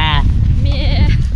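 Goats bleat in a small Russian village, wavering cries that carry over loud outdoor wind rumble, with the second call drawn out and quavering.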